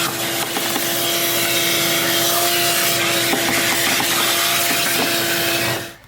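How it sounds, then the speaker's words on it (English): A vacuum cleaner runs steadily while cleaning out the engine air intake airbox of a 2007 Sprinter van, a loud continuous whine with scraping rubs of the nozzle against the housing, cutting off at the end. "I will go ahead, vacuum this, and then I will use a rag and nicely clean it."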